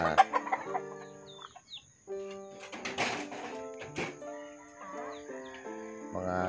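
Six-month-old young roosters (stags) gathered under a tree cluck and call in short, repeated bursts, close and overlapping, with faint background noise throughout.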